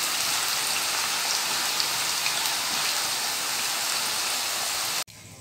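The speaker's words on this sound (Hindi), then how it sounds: "ये चिप्स हमने फ्राई कर लिए" Potato chips frying crisp in hot oil, a loud, even hiss of bubbling that runs steadily and then cuts off abruptly near the end.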